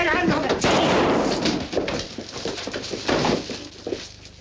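Gunfire in a 1957 war adventure film, a dense burst of rapid loud shots with a rattling, machine-gun-like edge, tailing into scattered cracks, with shouted voices mixed in.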